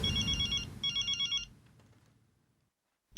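A telephone bell rings in two bursts, followed by a fading tail and near silence, then a brief start of a third ring at the end. The setting is an indoor sitcom scene.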